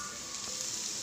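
Small paneer balls frying in hot oil, a soft steady sizzle heard close and alone for about a second.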